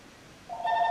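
A phone starts ringing halfway through, a bright electronic tone that comes in suddenly and holds steady, loud and close with no talking over it.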